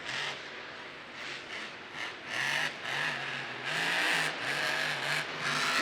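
Monster truck engine revving inside NRG Stadium in Houston during a Monster Jam event, a roaring rise and fall of revs with a loud crowd-filled arena echo.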